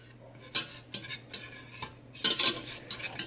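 Flour is whisked into a pan to make a roux for creamy parmesan garlic chicken, with bursts of quick metallic whisk strokes scraping the pan in short irregular bouts, close, over a faint low hum, no talk.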